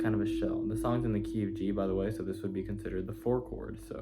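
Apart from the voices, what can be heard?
No distinct noise like a dog, phone or traffic.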